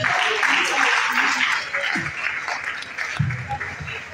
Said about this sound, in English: It's a big round of applause for our dear Vice Chancellor, Professor Eyoh Etim.